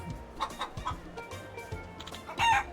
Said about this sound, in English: You can hear the chickens talking?